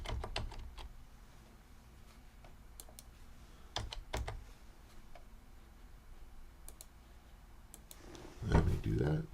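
Scattered computer keyboard keystrokes and mouse clicks while an address is entered, irregular bursts of tapping with a louder rustle near the end, under a person talking quietly.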